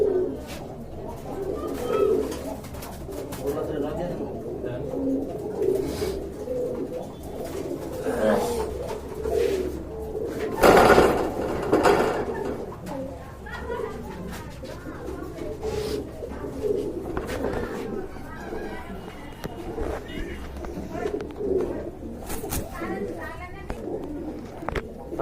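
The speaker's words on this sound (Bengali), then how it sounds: "আর এখন আপনারা দেখতে পাচ্ছেন দুইটা নট কবুতর রয়েছে" Male pigeons, domestic and foreign breeds kept for sale, coo in a low, rolling murmur that runs throughout, with people talking over the birds and a brief louder burst midway.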